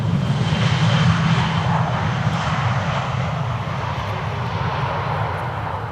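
A Vueling airliner with a hybrid livery at Schiphol Airport, a loud steady engine roar that slowly fades slightly over six seconds, heard without talk.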